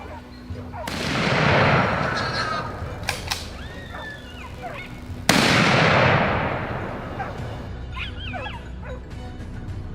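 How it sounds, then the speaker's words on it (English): Two loud, sharp gunshots crack out several seconds apart during a wild boar hunt on a hillside, each booming and fading, while dogs whimper and yelp nearby between the blasts. "At close range, Jay took his shot."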